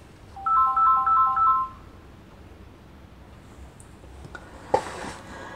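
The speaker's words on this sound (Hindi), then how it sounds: "मेरा फ़ोन रिंग कर रहा है" A mobile phone ringtone plays a bright repeating electronic melody for about a second and a half, then stops, leaving quiet room tone and a small click.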